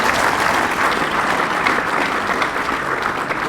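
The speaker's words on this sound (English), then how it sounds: "These guys deserve a massive round of applause, ladies and gentlemen" A crowd at an Australian football league medal presentation night claps in dense, sustained applause, loud and even throughout.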